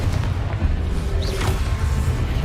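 A Confringo spell explodes in Hogwarts Legacy as a loud, low booming rumble over busy game noise, with a brief whistling streak partway through.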